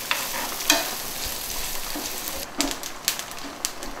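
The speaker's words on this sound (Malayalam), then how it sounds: "അതേ നെയ്യിൽ തന്നെ നമ്മൾ ഈ തേങ്ങാക്കൊത്തും കൂടി ഒന്ന് വഴറ്റിയെടുക്കാം" Coconut pieces roast in hot ghee while being stirred, giving a soft crackling sizzle broken by a few sharper scrapes and clicks of the spoon against the pan.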